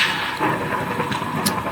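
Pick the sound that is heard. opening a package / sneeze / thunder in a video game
thunder in a video game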